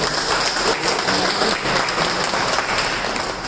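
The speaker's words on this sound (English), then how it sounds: "A big round of applause for us." A room at a Toastmasters meeting breaks into a loud round of applause, with dense and steady clapping from many hands that holds throughout.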